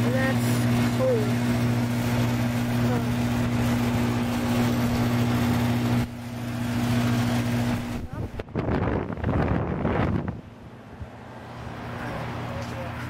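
Several 1996 Carrier 38CKB outdoor air conditioner units, one with a replaced fan motor, run with a steady loud mechanical hum and buffeting wind noise, joined by people talking in the second half.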